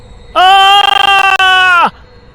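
A man screams loudly in an animated horror story: one sustained, high, strained cry of about a second and a half that wavers and stutters in the middle, then cuts off sharply.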